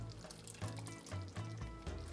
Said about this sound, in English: We're going to let it drain just a little bit.